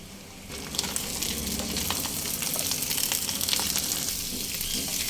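Potatoes and pointed gourd sizzle steadily in a hot pan, a continuous crackling fry with light stirring noises, close and fairly loud.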